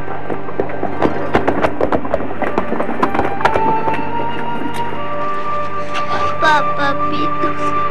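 Horse hooves clip-clop in an uneven run as a rider flees on a horse in a historical drama, the footfalls loud and close against a backdrop of music and other scene sound.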